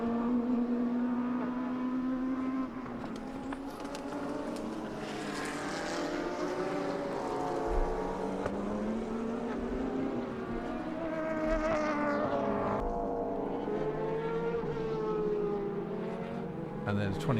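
GT race cars, including a McLaren and an Aston Martin, race at Inje during an Asian Le Mans Series round, their engines droning and shifting pitch steadily throughout under continuous commentary.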